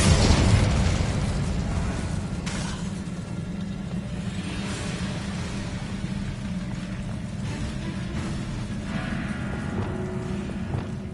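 A fiery Incendio spell cast in Hogwarts Legacy, roaring as a loud, dense, sustained burst of flame and rumble that holds steady for the whole stretch.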